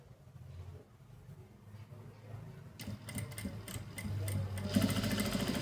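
A sewing machine starts stitching blouse fabric partway through, a quiet rapid mechanical whirr that gradually builds in loudness over a faint room background.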